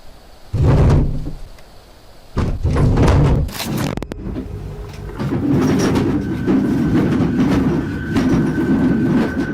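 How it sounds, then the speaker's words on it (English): Dishes rattling and clattering inside a cupboard, a loud burst of racket followed by further jolting clatter and a sustained rumbling jostle, close by. "It sounds like all the dishes inside are jumping around."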